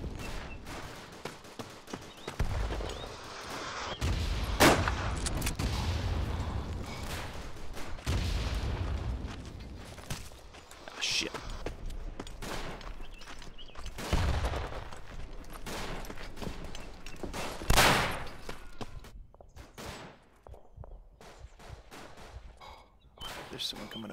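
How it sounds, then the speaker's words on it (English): Battle sounds from the World War I shooter Verdun: scattered rifle and machine-gun fire with deep booming blasts rising and falling over a long stretch. "Oh, their artillery was a little short."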